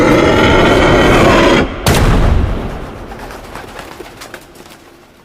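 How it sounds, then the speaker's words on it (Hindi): Loud gunfire in an audio drama opens the scene, a sustained booming burst with one sharp crack, then a fading rumbling tail with faint bird coos behind. "गोलियों की आवाज सुन के अनीता घबरा गई"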